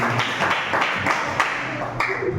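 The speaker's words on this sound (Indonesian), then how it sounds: "tepuk tangan sekali lagi untuk kelompok 1 yang sudah sampai di sini" A class of sixth-grade schoolchildren clapping for a group after its presentation, dense, lively applause that stays steady and fairly close throughout with no voices standing out.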